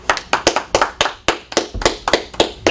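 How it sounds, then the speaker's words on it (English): Applause for a wrestler at a live wrestling show, close, crisp clapping in an irregular quick rhythm of about a dozen sharp claps, with no voices. "a round of applause for Gusten Thunder Uberstud"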